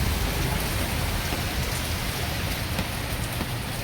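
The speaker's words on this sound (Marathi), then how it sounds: "मस्त असं पावसात रिमझिम पावसामध्ये" Light drizzling rain falls steadily as an even, dense patter of drops on surfaces, constant and fairly loud throughout with no voices.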